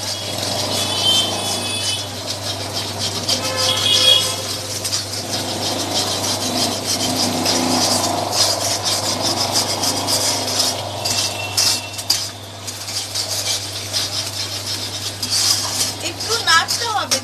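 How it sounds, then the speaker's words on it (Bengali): An egg fries in a little oil in a nonstick pan while being stirred, giving a steady sizzle with scraping and rubbing of a utensil against the pan, close by throughout. "যেহেতু আমরা তেলটা কম দিয়েছি সেজন্য একটু নেড়ে ছেড়ে ডিমটাকে ভেজে নিতে হবে।"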